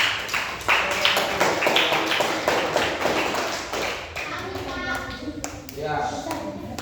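Classroom applause for a student group, a burst of scattered hand claps and taps from many pupils that thins out toward the end, with children's voices chattering over it.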